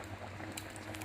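Jamaican stew peas with pig's tail simmering in a pot, a soft continuous bubbling and popping close by with no talking.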